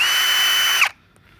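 A Ryobi 18V brushless hammer drill (P1813) bores into material with a loud, steady close whine that runs for under a second, rises briefly and then stops abruptly, leaving near silence.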